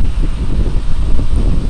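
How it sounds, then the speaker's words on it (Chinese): An electric fan blowing air over drying turmeric, producing a steady, close rushing whoosh with some buffeting, and no talk. "开住把风扇嚟吹"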